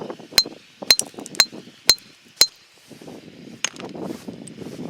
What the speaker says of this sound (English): You hear it when you hit it with a hammer. It sounds like you hit another hammer.